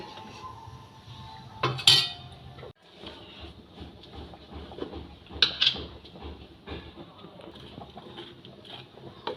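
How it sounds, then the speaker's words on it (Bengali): Puli pitha rice dumplings simmering in milk are stirred in a pot, giving faint bubbling with a couple of sharp metallic clinks of a spoon against the pot rim; no one speaks. "দুধ পুলির পিঠেগুলো একটু নেড়ে দেবো"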